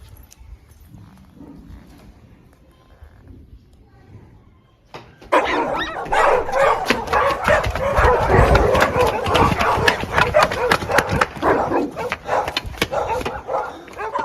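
A dog barks repeatedly and close by after a quiet opening, with whimpering yips mixed into the barking.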